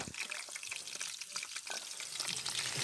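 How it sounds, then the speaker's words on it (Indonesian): Fried chicken crackling in hot oil in a pan at a mountain camp before a summit climb, a dense steady sizzle with bursts of popping spatter, fairly close throughout. "Ayam goreng"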